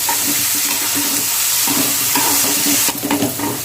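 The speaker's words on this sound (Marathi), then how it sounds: "तिलाही चांगली आपण तेलामध्ये फ्राय करून घेऊया" Chana dal and onion fry in hot oil, a dense close sizzle running throughout with stirring scrapes and a louder clatter near the end, no speech.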